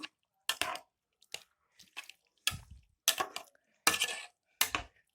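Metal frying pan handled on the stove during dinner cooking, a series of separate clanks and scrapes at uneven intervals, close and clear with silence between.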